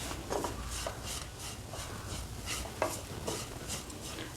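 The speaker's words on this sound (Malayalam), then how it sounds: "പഞ്ചസാര ചേർത്ത ശേഷം ഒന്ന് നന്നായി മിക്സ് ചെയ്ത് ഫ്ലെയിം ഓഫ് ചെയ്യാം" A spoon stirring sugar into sweet unnakkaya filling in a pan, with soft repeated scraping strokes at a steady rhythm and faint sizzling beneath, close and fairly quiet.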